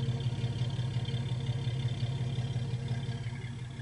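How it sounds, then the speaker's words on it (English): A 2000 Jeep Cherokee 4x4 engine idles through its exhaust, a steady low rumbling throb with a regular pulsing rhythm, close and continuous. "She sounds good out of the exhaust."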